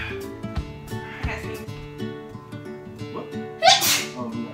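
A single sharp sneeze near the end, following quieter sounds and faint background noise.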